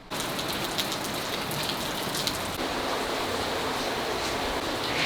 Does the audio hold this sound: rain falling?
yes